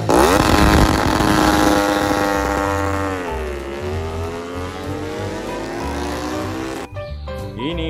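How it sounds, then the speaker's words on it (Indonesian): Honda racing motorcycle engine in a MotoGP video game, loud and continuous, its revving pitch climbing, dipping and rising again before cutting off abruptly near the end. "ini Honda balapan."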